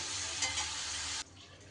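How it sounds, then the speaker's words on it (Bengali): Potatoes frying in hot oil give a loud, steady sizzle with faint stirring scrapes, then drop abruptly to a quieter bubbling hiss. "ভাজতে ভাজতে আলুগুলো কিন্তু আমার বেশ সুন্দর লাল লাল করে ভাজা হয়ে গেছে।"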